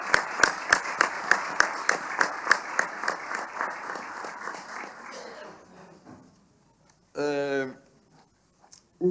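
A brief round of clapping in a municipal assembly session in Faro, Portugal, distinct claps at first that fade over about five seconds, followed by a short burst of speech.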